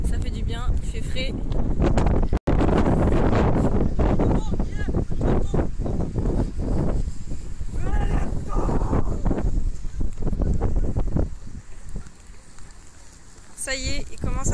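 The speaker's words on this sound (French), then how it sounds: "Ça y est, il commence à pleuvoir fort sur Montpellier." Heavy rain and gusting wind batter the microphone in Montpellier with a dense, roaring wash of noise that hardly lets up, and a voice talks over it throughout.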